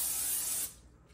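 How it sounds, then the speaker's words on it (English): A short, close burst of Pam olive oil cooking spray hissing from the can for about half a second, then cutting off into quiet. "that's just Pam olive oil spray"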